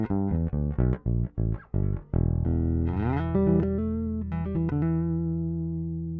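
Electric bass run through a Sushi Box Grand Slam pedal, with a series of short punchy plucked notes followed by longer sustained, slightly gritty notes sliding and fading out.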